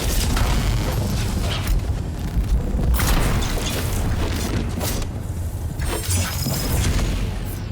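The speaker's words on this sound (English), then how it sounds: "The Gravity Mine did pop, but it didn't work." A loud, dense burst and rumbling boom from a Gravity Mine exploding in Dune Awakening, with crackling debris and shattering noise over a heavy low roar.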